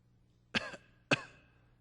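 Two separate coughs or throat clearings from audience members at a Buddhist talk sound about half a second apart, each a sharp burst that fades quickly against a quiet room.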